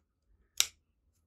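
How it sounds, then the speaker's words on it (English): Scissors make a single sharp, close snip through a macrame cord in an otherwise quiet room. "And now we can just cut this one."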